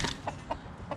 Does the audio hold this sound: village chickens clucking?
yes